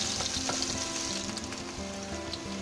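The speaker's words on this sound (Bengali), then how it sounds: "পেঁয়াজ কুচি দিয়ে দিলাম, একটু হালকা বাদামি করে" Chopped onions fry in oil in a steady, close, crackling sizzle that continues without pause and without any voices.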